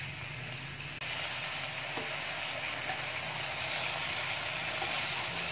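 Pork for igado sautéing in a pan, a steady, loud, close-up sizzle and frying hiss that swells slightly after a second and then holds without a break.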